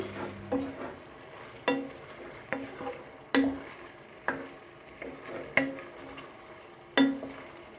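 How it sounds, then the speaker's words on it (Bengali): A spoon stirs beef tripe bhuna in a cooking pot, knocking out about eight sharp, evenly spaced clanks against the metal over a faint low simmer. "তো এটাকে এখন একটু নেড়ে দিচ্ছি"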